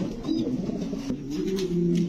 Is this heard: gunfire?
no